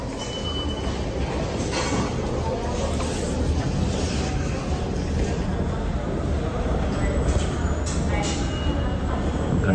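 Train at a station, a continuous loud rumble of rolling wagons with faint wheel squeal and some brief higher screeches, steady and close throughout.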